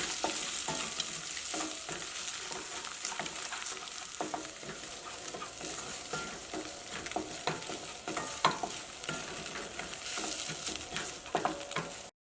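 Eggs frying and being stirred in a pan over lowered heat, a steady close sizzle broken by repeated scraping and tapping strokes throughout, with no talking.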